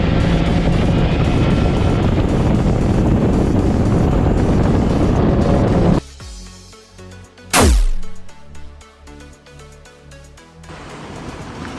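Wind and road roar fill the first half while a car with traction control pulls hard from reverse into drive at full throttle. It then goes quiet and gives a loud rising whoosh before a calmer stretch of engine hum.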